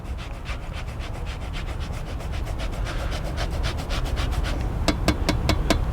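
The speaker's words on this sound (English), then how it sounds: "I'm gonna grate in some orange, because it brings all the flavors together" Orange zest grated into a Mexican chocolate mixture, a steady rhythmic scraping of rub strokes close up, running continuously with a few sharper clicks near the end, no talking.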